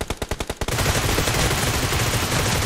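Gunfire in the mobile battle royale game PUBG Mobile: a quick string of about seven evenly spaced single shots, then a dense, continuous roar of automatic fire, loud and close.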